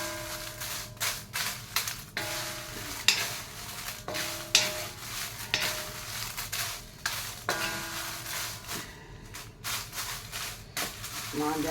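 Dry red chilies with coriander seeds, cumin, fenugreek and salt roast in a pan while being stirred, giving a steady dry rustling and scraping with occasional knocks. Someone talks over the sound.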